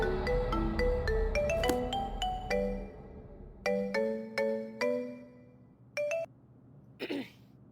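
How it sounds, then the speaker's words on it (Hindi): A phone ringtone plays a short melodic tune close and clear, repeating in bursts that then break off, with a brief cough near the end. "एक ही रिंग में फोन उठा लिया तूने"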